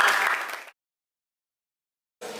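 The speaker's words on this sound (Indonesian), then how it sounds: "Tepuk tangan dong buat kita semua." Audience applause at a teacher appreciation event; a short burst of clapping cuts off into silence, then resumes briefly at the end.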